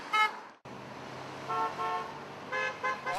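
Car horns toot a few times against steady road noise at a peace rally, short honks rising above a passing-traffic rumble.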